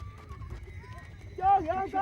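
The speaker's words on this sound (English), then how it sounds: "The sound of thousands of hooves shook the earth." Horses neighing and whinnying over a low rumble of hooves, with a loud, close burst of whinnying near the end; the hoofbeats themselves stay muffled underneath.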